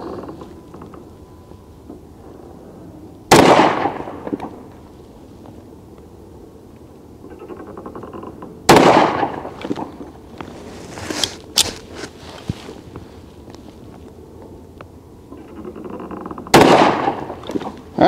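10mm Auto pistols, a Springfield Armory Ronin and a Kimber Custom II, fired outdoors: a few loud, sharp single shots spaced several seconds apart, each with a brief echoing tail, and quiet handling noises between them.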